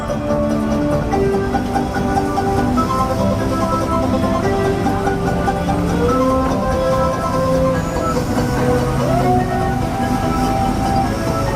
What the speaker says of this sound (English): Please remain seated till the train comes to a full and complete stop.